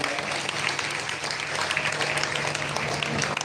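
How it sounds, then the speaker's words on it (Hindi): Loud audience applause at a religious Bhagavat Katha gathering in Kurukshetra, dense steady clapping from a crowd filling the whole stretch, with a faint low hum beneath. "एक बार इनके लिए भी जोरदार तालियां।"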